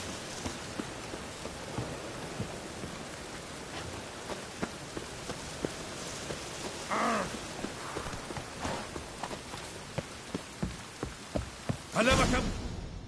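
Rain falls steadily in a PS4 video game, a soft, continuous patter with hoof-like clip-clops and scattered thumps, fairly faint, with a brief louder swell near the end and occasional voices.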